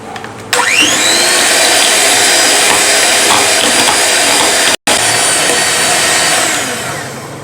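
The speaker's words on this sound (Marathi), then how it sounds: "आता आपण ही क्रीम बीट करून घेऊया।" An electric mixer beats cream for custard ice cream, its motor kicking in after a moment and whirring loud and steady at close range, briefly cutting out for an instant before running on and easing slightly toward the end.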